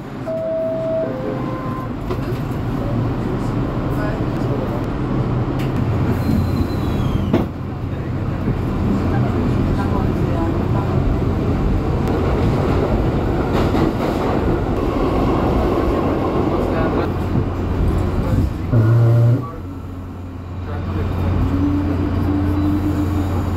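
A New York City subway train rumbles steadily under Times Square, a loud continuous roar with clattering and screeching, and brief tones and voices are faintly heard beneath the din.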